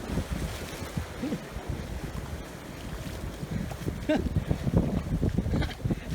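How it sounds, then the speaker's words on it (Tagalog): Rough sea waves churn and splash against a boat off Bangol Crags, Agno, Pangasinan, amid gusty wind noise, with voices talking over the steady roar of the water. "Lakas yung alon."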